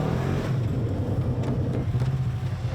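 Jeep 1000 climbing a rock ledge on a Moab ridgeline, its engine revving hard and steadily up close, a dense throaty roar with slight surges as it bounces over the rock.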